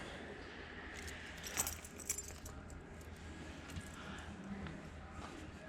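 Original keys jangle faintly on a 1965 Ford Mustang, a few soft metallic clinks rising briefly over steady background noise.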